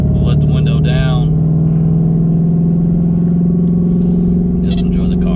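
A 2020 Mustang GT500 with a 3.8 Whipple supercharger cruising with a low, steady engine drone and road rumble inside the cabin, loud and constant, with a voice speaking briefly near the start and end.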